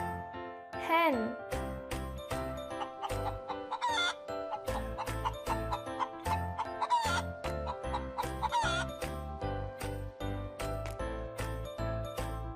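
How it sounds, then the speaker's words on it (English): A hen clucks in a series of short repeated calls, mixed over a rhythmic, jingly children's music backing track and a speaking voice. "Hen."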